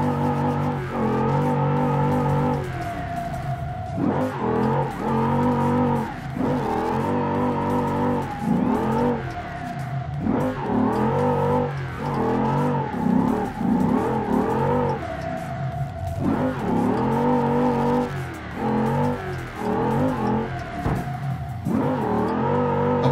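A car engine in BeamNG.drive revs and accelerates loudly and steadily through drifts, pitch climbing and dropping in repeated surges with short gear-shift dips and no pause, close and alone.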